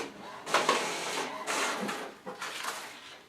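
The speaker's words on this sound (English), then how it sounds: "It's printing." An HP Wi-Fi home printer pulls in paper and prints a simple page, giving a close whirring, rasping mechanical run in several surging passes with short pauses between them.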